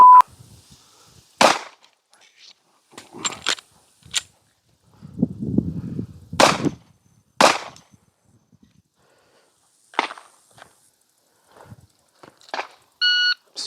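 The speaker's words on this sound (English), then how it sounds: "We will put 1 round on target, reload, and then put 2 more rounds on target with our weak hand only" Handgun shots at a shooting range course of fire, drawn from a holster with a reload and weak-hand-only follow-up shots: several sharp, loud cracks spaced irregularly, with a short pause and handling noise between, then beeps near the end.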